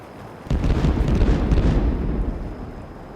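Ship cannon fire in the naval combat of the video game Caribbean Legend: a sudden loud boom followed by a long, rumbling roar that slowly fades, heard alone.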